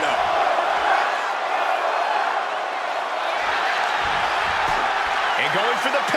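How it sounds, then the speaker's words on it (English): Arena crowd in the WWE 2K26 wrestling game roars and cheers steadily during a SmackDown match, a dense, loud wall of noise holding throughout with a commentator talking over it. "The crowd is fired up."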